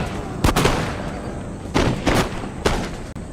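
Musket volleys in Total War: Empire, the PC strategy game: three loud, sharp bursts of massed gunfire spaced about a second apart, each with a short rumbling tail over a steady battlefield bed.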